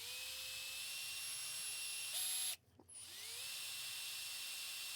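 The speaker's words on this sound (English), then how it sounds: "Keep the drill bit cool." A high-pitched electric drill whines steadily, briefly cuts out, then spins back up to a continuous drone, drilling near the glass of a 1974 Chevy C10 vent window.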